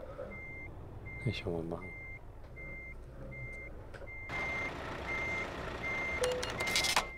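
Truck reversing in Euro Truck Simulator 2, a regular series of electronic beeps repeating evenly over engine rumble, with someone speaking briefly partway through.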